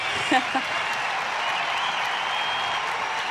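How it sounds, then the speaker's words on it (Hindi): A festival audience at Jashn-e-Rekhta 2022 claps during an onstage conversation, a dense, sustained wash of applause that holds steady from start to end, with a brief voice near the opening. "ये तालियों की गड़गड़ाहट जो किसी भी कलाकार के लिए सबसे बड़ा इनाम है"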